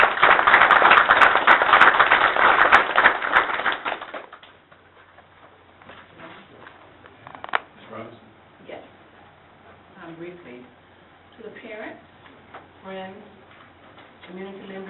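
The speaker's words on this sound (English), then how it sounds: "Let's all give ourselves a round of applause." Dense applause from a crowd at a board of education meeting fills the first few seconds, then fades out into quiet room sounds with scattered faint voices.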